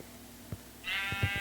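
A sheep in the Minecraft video game bleats once, short and fairly clear, after a few soft game taps.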